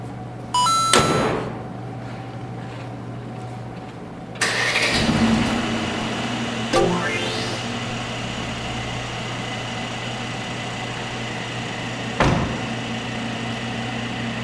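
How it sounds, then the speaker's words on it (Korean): A Mercedes-AMG C43 turbo engine cranks and catches with a burst, then settles into a low, steady idle with a couple of brief knocks, close by and with no talking. "제가 시동 한번 걸어볼게요."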